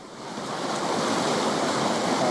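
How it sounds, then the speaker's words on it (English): A raging river rushes down hillsides in Colorado near Placerville, carrying debris and unmelted ice chunks, producing a dense, steady roar of churning water that grows slightly louder and stays constant throughout. "the raging river, rushing down hills, sweeps along all sorts of natural debris, including chunks of ice that haven't melted yet"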